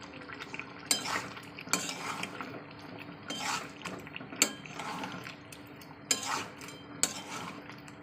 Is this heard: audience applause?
no